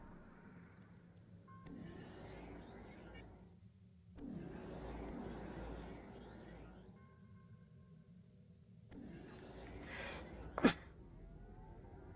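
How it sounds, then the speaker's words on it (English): A short, sharp sneeze from one person, close to the microphone, rising above quiet background sound and stretches of talk near the end. "Yes, Frisk, I sneezed."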